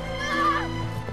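A horse whinnies loudly in a film scene, a rising-then-falling neigh over a dense music and effects bed, with faint hoof clip-clop nearby.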